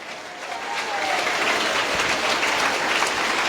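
A church congregation breaks into applause, the clapping swelling quickly into a loud, dense wash that carries on steadily to the end.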